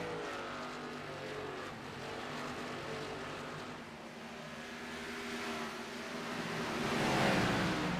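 Race cars in a stock car racing video game roar past on the track, a continuous loud engine drone with rising pitch as cars close in and sweep by near the end.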